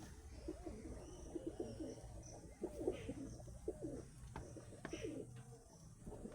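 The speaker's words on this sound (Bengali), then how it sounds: "এখানে সমস্ত ফিমেল পায়রা," Pigeons cooing steadily in a loft holding female birds and young of several breeds, including Andhra, Madras, Giribaz and Napta; soft repeated coos overlap throughout with faint chirps, fairly close, no talk.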